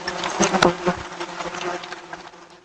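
Wasps buzz busily around a nest, a close, continuous droning hum with individual insects passing near, loud and steady throughout with no talk.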